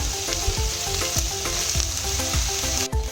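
Mashed boiled potato frying together with spiced lote fish (Bombay duck) in a pan for fish chops: a steady close sizzle throughout, with regular scraping strokes of a spatula roughly every half second.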